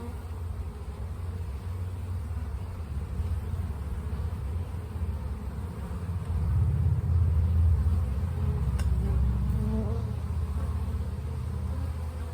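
Honeybees hum in a dense, steady drone during a hive inspection, close and continuous, with a low rumble underneath that swells slightly midway.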